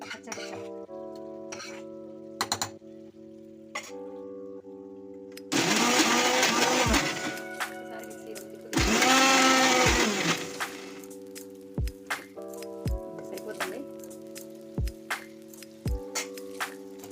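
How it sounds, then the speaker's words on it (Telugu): A kitchen mixer grinder blends gongura chutney in two loud whirring bursts, one long and one shorter, with steady background music before and after. "మిక్సీలో వేసుకుందాం."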